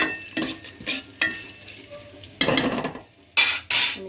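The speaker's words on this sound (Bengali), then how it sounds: "একটু হালকা নেড়ে চেড়ে ভেজে নিলাম।" Chira (flattened rice) pulao ingredients being stirred and fried in a pan for breakfast, with scraping, clattering strokes and bursts of sizzling in irregular bursts, close and fairly loud, no talking.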